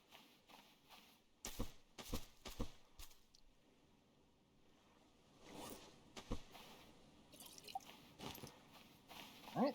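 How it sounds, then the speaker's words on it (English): Water bottle being refilled in the survival game Stranded Deep: a few quick splashy, squishy bursts and drips, with soft rustling and steps in between, fairly quiet and with no talking. "that's my water bottle refilled"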